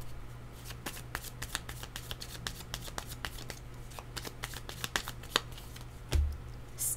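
A deck of cards is shuffled and drawn during a card reading, giving a continuous crisp riffling patter with rapid flicks and snaps throughout. A brief thump sounds near the end.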